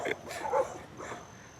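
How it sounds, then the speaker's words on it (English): Dogs bark a few times, fairly distant and soft, early on a beach-side morning at Pawleys Island, with a faint quieter yip trailing after. "The dogs are up."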